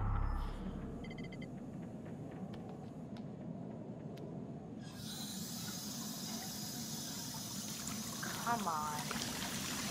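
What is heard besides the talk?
running water filling a bath, from the video game Until Dawn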